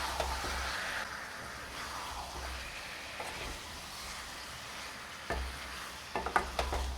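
Chicken liver sautéing with chili, cumin and coriander powder over a low-medium flame, a steady close sizzle with scraping stirs of the spoon and a few louder clatters toward the end.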